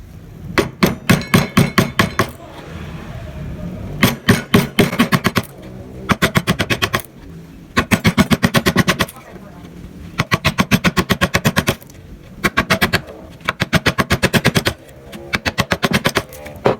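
Hammer strikes a chisel to carve wood for Balinese relief carving, loud rapid bursts of sharp taps in quick runs separated by short pauses, close and alone without talk.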